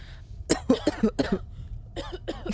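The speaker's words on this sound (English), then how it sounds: "They didn't even need me to cough. They got that sound design." A series of raspy coughs from a video game sound effect, in quick clusters, close and fairly loud, with brief pauses between fits.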